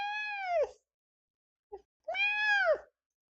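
A gray cat meows twice, two drawn-out clear meows close by with a brief faint sound between them, no talk over them.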